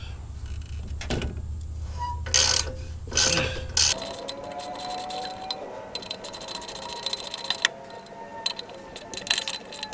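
Bolts being removed by hand with a ratchet tool on a vehicle, with irregular clicking ratchet strokes, metallic clinks and jangling close up, with no talking.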